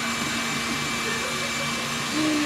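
Food mixer and air conditioning unit running together in a room, a steady loud whirring drone with a constant hum throughout, no talking.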